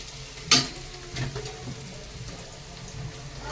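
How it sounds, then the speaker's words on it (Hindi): Onions and okra frying in a pan, a low gentle sizzle with a sharp clatter near the start and a few soft stirring knocks; no one speaks. "बस प्याज को होने देते हैं फ्राई और डालते हैं भिंडी"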